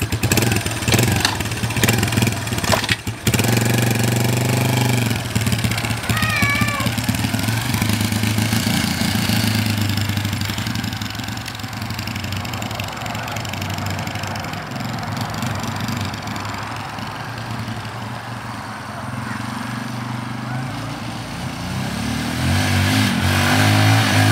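A 1987 Honda Fatcat motorbike runs loud and steady for the whole stretch while being ridden, its engine revving harder at the start and near the end and settling into a constant drone in between, with no talking.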